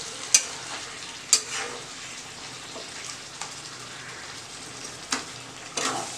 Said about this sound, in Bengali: এবার একটু নাড়বো, একটু মিট মশলাটা দেবো।